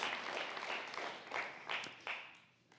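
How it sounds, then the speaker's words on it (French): Church audience applauding volunteers and participants, a broad spread of clapping with several surging swells that fade away toward the end, moderately faint in a large room. "Alors, bon applaudissement pour tous ceux qui prennent place."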